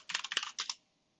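Password keys tapped on a computer keyboard, about a dozen quick close keystrokes in two bursts, then silence.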